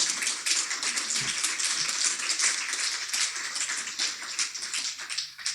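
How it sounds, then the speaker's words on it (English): Crowd clapping steadily, a dense patter of many hands applauding at moderate loudness for several seconds. "Give her a better hand clap."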